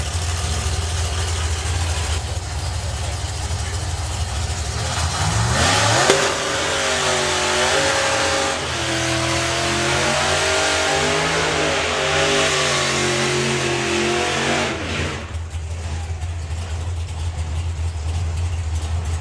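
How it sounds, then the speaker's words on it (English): A big-block supercharged drag racing car does a burnout at a drag strip, its loud engine revving hard and rising in pitch, holding a sustained roar for about ten seconds before cutting off, against the steady noise of the event. "Big burnout for the big block supercharged car in the Kestrel lane."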